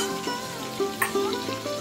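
Potatoes fry in oil in a pan, a constant close sizzle with light clicks and scrapes of stirring every fraction of a second.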